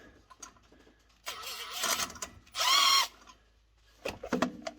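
Bursts of a power tool with an 11mm deep socket whirring close by, loosening a turbo compressor elbow on a Cummins engine; one long buzzing run followed by a sharp high-pitched spin and shorter rattling pulses.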